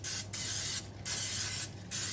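Cooking spray hisses into a baking pan in three short, close bursts separated by brief pauses.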